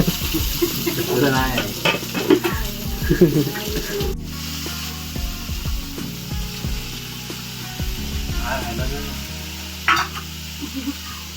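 Food sizzling and frying in a hot pan, with scraping and stirring clatter. Voices talk over much of it.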